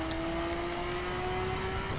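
Nissan Skyline engine in The Crew racing game, a steady, even drone holding a constant tone throughout, moderately loud with no talking.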